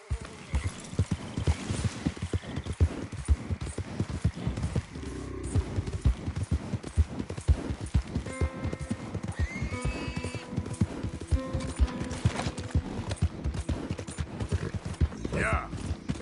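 Horse hooves clip-clop steadily through a ride in the Red Dead Redemption 2 video game, a neighing whinny breaking in along the way, with a rider's voice speaking over the hoofbeats.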